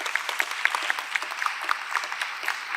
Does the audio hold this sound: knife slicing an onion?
no